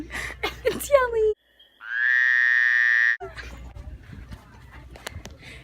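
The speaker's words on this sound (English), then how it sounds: "Oh. Frog. It was just on the floor. It's so squishy. It's yelling." A squishy frog found on a store floor lets out a loud, steady, buzzing croak lasting over a second, set between bursts of clattering handling noise and rustle.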